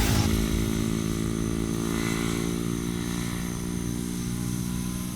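A Honda Ruckus scooter engine drones steadily and loudly up close, with a continuous buzzing hum that holds an even pitch throughout.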